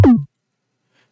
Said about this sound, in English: I also have this 808 fill, just like a tom, which sounds like this.